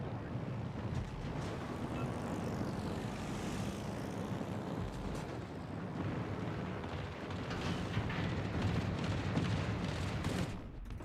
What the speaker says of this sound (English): I still have 3 fighter planes over here.